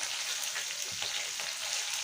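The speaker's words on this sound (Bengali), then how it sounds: "আমার মাছের কাঁটাগুলো ভাজা হয়ে গেছে।" Bhetki fish bones frying hard in hot oil, a dense, continuous crackling sizzle with steady loudness throughout and no voices.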